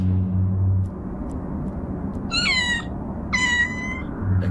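In the No More Heroes video game, a cat gives two clear, close meows, spaced about a second apart, over a low background rumble.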